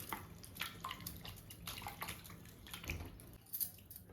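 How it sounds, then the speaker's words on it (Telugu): Small young raw mangoes are being washed in water, with soft splashes, sloshing and dripping heard quietly and close, in irregular bursts. "2 సార్లు సాల్ట్ వాటర్లో, ఒకసారి నార్మల్ వాటర్లో కడిగేస్తున్నాను."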